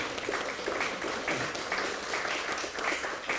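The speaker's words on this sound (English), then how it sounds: "yeah, you can clap for that." Audience applause and clapping at a public event touring a new middle school, a steady dense wash of hands filling the room at close range, with no talk over it.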